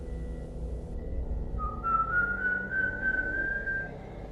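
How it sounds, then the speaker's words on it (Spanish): A single sustained whistled tone, rising slightly and holding for a couple of seconds, clear over a low steady background rumble. "escuché un chiflido. Fue bajito entre las ramas"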